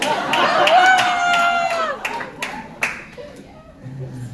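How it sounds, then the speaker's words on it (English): A comedy audience gives scattered, modest applause in a room, the claps coming in sparse bursts after a voice is heard at the start. "I just asked a room full of strangers to clap for me."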